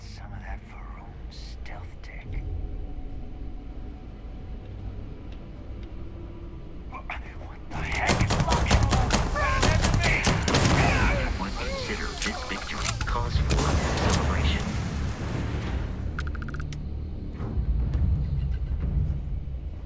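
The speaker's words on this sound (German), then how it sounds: "Die ist freiwillig so explodiert." A mine explodes in the space video game Starfield with a sudden loud blast. It is followed by several seconds of dense, crackling, rumbling debris and gunfire-like noise before fading back to quieter game ambience.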